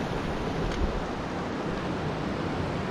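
The Colorado River flowing through the Grand Canyon near Phantom Ranch, a steady broadband rush of water at moderate level, continuous with no breaks.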